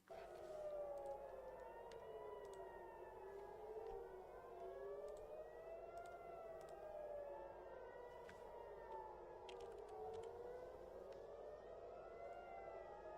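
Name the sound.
civil defense air raid sirens in Tel Aviv during missile attack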